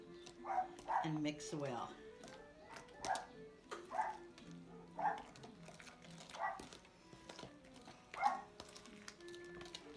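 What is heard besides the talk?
dog barking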